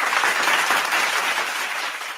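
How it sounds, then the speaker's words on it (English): Steady applause from a live audience at a fantasy football show taping, a dense wash of many hands clapping that holds for about two seconds and tapers slightly at the end. "I even get applause"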